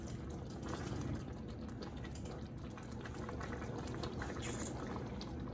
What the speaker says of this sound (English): we're gonna let this simmer another 5 minutes.